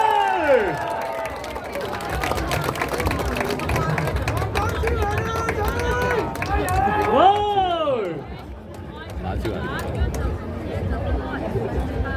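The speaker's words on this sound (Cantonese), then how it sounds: "請各位俾最熱烈嘅歡呼俾我哋小朋友嘛" A crowd at a children's boxing bout in a Kowloon City park in Hong Kong cheers and shouts loudly, with excited voices and whoops over a dense babble, while an announcer talks over the noise.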